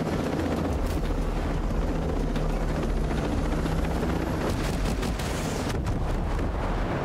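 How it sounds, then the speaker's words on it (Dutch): A drone flies in the Ghost Recon Breakpoint video game, a loud, steady rotor-like whir with a low hum that runs through the whole stretch, with sharp bursts flickering through it. "Daar die drone dan."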